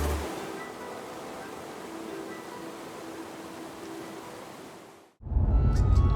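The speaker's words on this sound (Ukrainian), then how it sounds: "Кажуть, що саме тут падає найбільший за силою потік води на всьому континенті" Powerful glacier-fed waterfall in Iceland roaring as a steady broadband rush, then cutting off briefly before a louder, closer burst of rumbling water.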